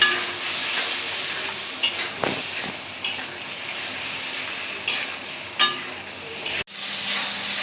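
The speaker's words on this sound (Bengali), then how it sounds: "এখন মশলাটা ভালো করে কষায় নিব" A ginger-garlic spice paste with salt being stir-fried in a pan, a continuous sizzle broken by several sharp scrapes and clanks of a utensil against the pan, close and loud with no speech.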